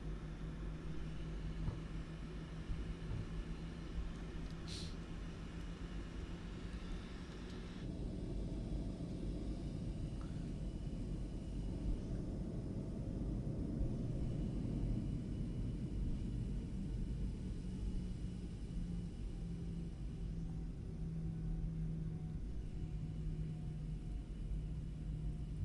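A PMDG Boeing 737 taxiing in Microsoft Flight Simulator 2024, a steady low engine rumble and whine that holds evenly throughout, with slight tonal shifts and no talking.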